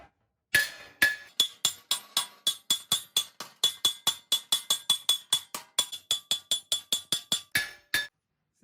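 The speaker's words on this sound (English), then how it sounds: "Use my lightweight body hammer." A rapid, steady series of about thirty sharp metallic blows from a lightweight body hammer stretching and curving sheet metal, ringing slightly, close and loud with no talking.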